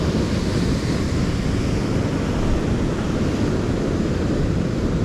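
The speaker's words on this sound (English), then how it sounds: "it's just the bloody waves banging that weed" Sea waves washing weed against a fishing line on a shore after a storm, a continuous loud roar of surf with wind noise and no let-up.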